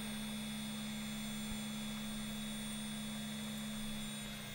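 A 2.2 kW air-cooled spindle motor driven by a VFD runs at steady speed, a smooth, even, quiet electric hum with a constant high whine, no talking.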